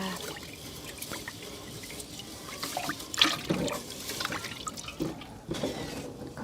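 Water poured into a pot of rice during the second rinse before cooking, a close, steady splashing and trickling with a few louder gushes, heard alone without talk.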